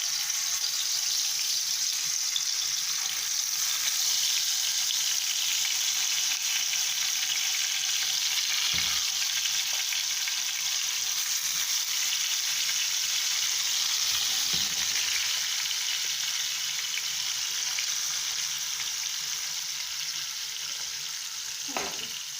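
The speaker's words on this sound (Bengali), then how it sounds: "এই তো এখানে মাছগুলো এখন ভেজে নিব" Tilapia fish pieces frying in oil in a pan give a continuous, even, close sizzle with bright crackling throughout and occasional faint clunks from handling, with no voices.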